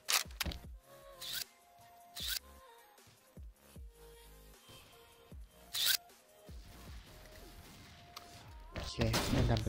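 Dragunov sniper rifle firing in an online shooter game, several sharp loud cracks spaced irregularly over the stretch, with game sounds and chatter-like noise between shots.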